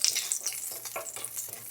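Shrimp fried rice being stir-fried in a very hot oiled pan: a bright continuous sizzle with repeated scraping and tossing strokes, close and alone.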